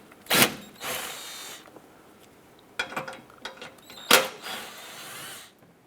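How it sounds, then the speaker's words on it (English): A 15mm socket wrench works loose large bolts on a shield of a Cadillac Escalade's front suspension, giving several separate bursts of metallic clicking and ratcheting, close by, with short pauses between. "we're going to use our 15mm socket and remove these two large bolts"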